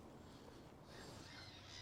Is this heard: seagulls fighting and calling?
yes